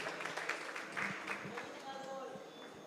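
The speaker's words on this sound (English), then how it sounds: "Give them a round of applause, please" An audience claps at a prize giving ceremony for livestock, moderate applause running throughout while a voice speaks over it.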